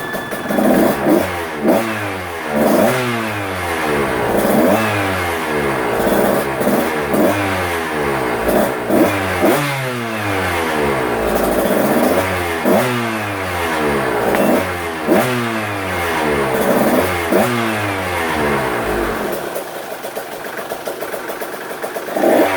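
A KTM 125SX dirt bike engine with a freshly rebuilt top end runs steadily at low idle while warming up, with a rhythmic, pulsing throb, close up, no voices.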